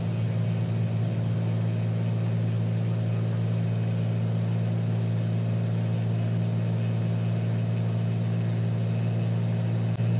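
Simulated Piper Archer II single-engine propeller plane in Microsoft Flight Simulator at full power on the takeoff roll, a steady loud droning engine hum with no talk.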